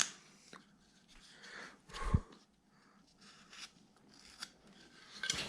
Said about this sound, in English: let me kind of shave this down a little bit